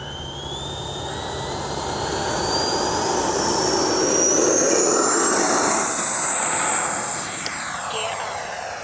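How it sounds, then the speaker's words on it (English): An FMS F-86 Sabre 80mm electric ducted-fan RC jet passes overhead with a rising turbine whine, swelling louder in the middle and fading slightly, heard outdoors over wind noise. "That was one good looking plane."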